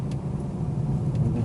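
A 2019 Bentley Continental GT W12 engine idles softly in a traffic jam, a low, smooth, even hum with faint road noise around it.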